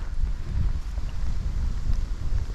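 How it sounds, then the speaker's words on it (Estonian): Strong stormy wind buffets the microphone at the shore with a low, continuous rumble that swells and eases without pause, filling the whole clip with no other clear sound. "Tuul on juba korraliku tormi mõõtu siin."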